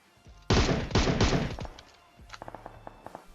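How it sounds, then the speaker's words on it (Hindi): Gunshots in the mobile shooter game PUBG Mobile, a loud close burst of several rapid cracks followed by a string of fainter, more distant pops. "मैंने बस 2 गोली चलाई और एक सर पे लग जाती है"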